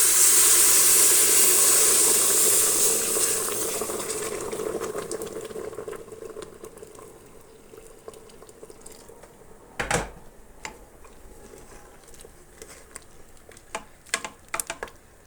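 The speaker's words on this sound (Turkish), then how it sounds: "Hemen üzerine sıcak suyumu ekliyorum." Hot water is poured into a pot of lentil soup, a loud rushing hiss and bubbling at first that fades into quieter simmering with a few sharp clinks and knocks.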